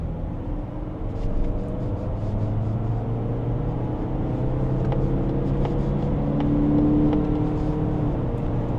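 Mazda CX-90 PHEV plug-in hybrid SUV accelerating uphill in sport mode, a steady close engine drone with rising tonal whine and road noise throughout, no talking.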